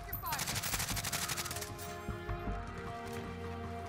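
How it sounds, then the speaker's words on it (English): Shotgun fire in the video game Call of Duty Warzone rattles in a rapid string of close, sharp shots during the first two seconds, then thins to scattered pops and a rumbling background. "They've got fire shotguns."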